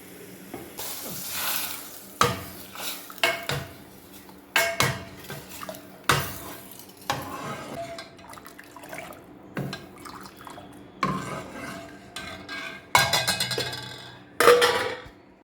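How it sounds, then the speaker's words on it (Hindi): Cumin seeds sharply crackle and pop in hot oil in a pan, with bursts of clatter and metallic clinks from cookware, near and uneven throughout. "ये देखिए कितने अच्छे से चटक रहा है जीरा मेरा"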